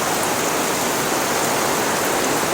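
Heavy rain pours down onto a grape greenhouse in a dense, continuous hiss with no pauses, loud and close throughout.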